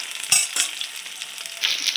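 Chicken pakora fries in a pan of oil, a soft crackling sizzle broken by a couple of sharp clinks and stirs, heard close and alone.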